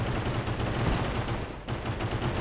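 Continuous rapid turret fire from RimWorld, a steady loud rattle of overlapping shots that fills the clip, with a brief dip in intensity near the middle.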